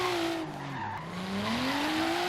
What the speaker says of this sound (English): we'll pull off here after I do a couple more drifts